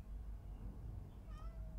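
A house cat meows indoors, faint and close, giving a couple of short rising meows near the end over a quiet low background hum.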